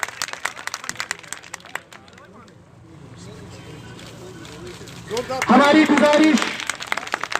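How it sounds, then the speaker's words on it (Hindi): Hands clap in a burst of applause at a BJP party workers' meeting in Anantnag, loud at first and then fading, with a second swell of crowd noise near the end while someone speaks over a microphone. "इनके लिए जोरदार तालियां।"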